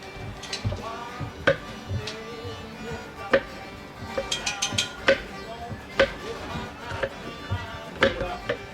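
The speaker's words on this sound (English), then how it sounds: "Now cutting the green onions and the parsley" A knife chops green onions and parsley on a cutting board in irregular bursts of sharp taps, some quick runs and single loud knocks, with faint background sounds between the cuts.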